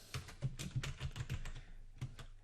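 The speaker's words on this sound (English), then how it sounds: "the recipient can type in their name" Quiet, close keystrokes on a computer keyboard: a quick run of a dozen or so taps, then a pause and a final single key press.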